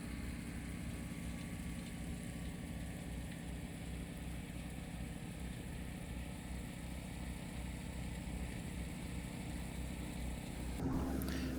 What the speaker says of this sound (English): Here we have the wheel loader feeding the 108 ProScreen Vibratory, removing fines to create a pea gravel product for drainage stone.